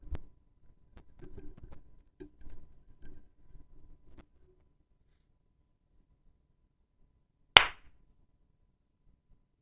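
A single sharp hand clap made for audio sync stands out loud and close after a few seconds of soft shuffling and handling noises, followed by quiet.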